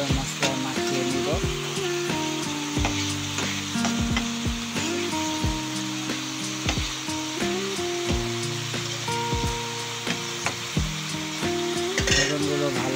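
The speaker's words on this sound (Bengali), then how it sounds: "নাড়িয়ে চাড়িয়ে বেগুনগুলোকে ভালোভাবে মশলায় মাখিয়ে নিব।" Eggplant being stirred and fried in spices for a fish and eggplant curry sizzles steadily up close, with frequent clanks and scrapes of a spoon against the pan, while faint background music plays.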